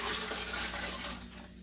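Homemade chicken feet bone broth pours into a plastic container, a short steady splashing gush of liquid heard up close that fades slightly at the end.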